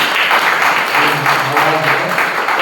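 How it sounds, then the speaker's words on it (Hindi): A church congregation gives dense, continuous applause after worship, loud and close, with a faint voice mixed in beneath the sustained clapping. "सो प्रभु के लिए धन्यवाद कर सकते हैं तालियों से।"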